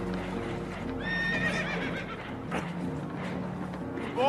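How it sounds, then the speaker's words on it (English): In the video game Red Dead Redemption 2, spooked horses on a damaged boat let out a shrill whinny. Clip-clop and shuffling hooves sound under a busy, rumbling background. "Horses are spooked"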